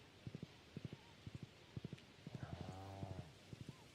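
Horse hooves clip-clop in Stardew Valley, a farming video game, in quick groups of three soft, evenly spaced thuds, repeating across the clip with a brief tonal game chime layered over the middle.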